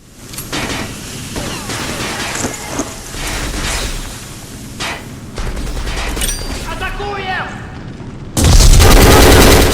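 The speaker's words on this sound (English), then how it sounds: "the gunshot sounds are changed to make a chorus of gunfire" Dense bursts of video game gunfire and booms overlap in rapid volleys with voices underneath, ending in a loud, harsh wall of noise.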